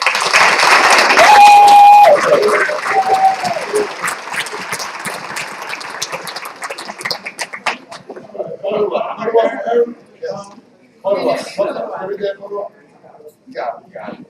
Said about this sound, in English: And again, a round of applause for our